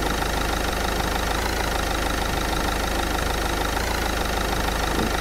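A car engine idles in the Roblox game Traffic Lights: Deluxe, a steady, fairly loud and slightly noisy hum that drones on without a break for the whole stretch, with no talk over it.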